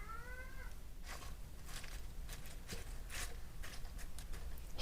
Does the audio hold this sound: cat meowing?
yes